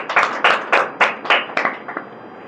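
Church congregation clapping hands together in unison, about eight sharp, evenly spaced claps that fade slightly toward the end, with no talk over them.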